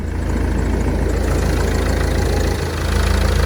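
A Vauxhall Movano 2.3 diesel van engine idles steadily at close range while warming up, a continuous low rumble with a fast knocking chatter and no voices.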